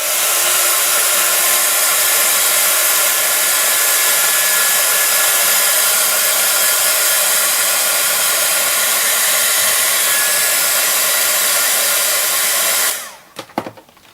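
A hair dryer blows steadily and loudly over a mixed media canvas, holding a constant airy roar for several seconds before it switches off with a brief clatter.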